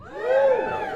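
Comedy show audience cheering and whooping together for about a second, a loud, sustained crowd swell with no speech over it.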